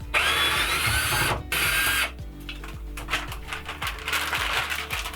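A power drill removing a shower head bracket inside an RV, first a steady high whine for about two seconds, then slower rhythmic clicking as the screw backs out, close and fairly loud without talk.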